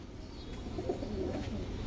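Giribaz pigeons coo softly in a low, murmuring stretch, faint and continuous, with a little background hum.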